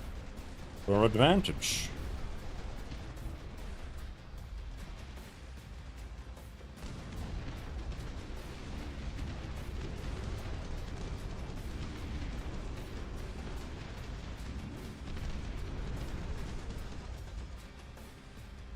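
In a strategy video game, howitzer artillery fires as deep, muffled booms and low rumbling that run under someone talking.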